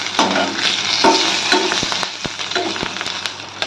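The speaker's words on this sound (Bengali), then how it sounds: "আমরা একটু ঢেকে ঢেকে ফোড়নটাকে ভাজবো।" Mustard seeds, bay leaf and slit green chillies fry in hot oil in a covered pan, a loud close sizzle punctuated by sharp seed pops and a few clattering knocks.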